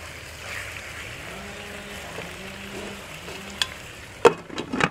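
Pork ribs simmering covered over very low heat in a pot, a soft steady bubbling hush throughout, then a few sharp clinks and knocks near the end, no talking.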